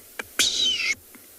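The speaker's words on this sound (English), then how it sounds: "Now there's a bird alarm calling at her." On an evening safari, a bird gives a short, harsh alarm call at a predator: a faint chip, then one raspy, buzzy burst lasting about half a second, and a brief faint note after.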